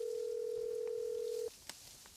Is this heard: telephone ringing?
yes